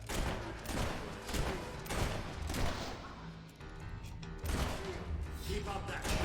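Gunfire in the Fable III video game, a dense run of shots and thuds that continues for several seconds under game music and ambience, with a brief lull in the middle.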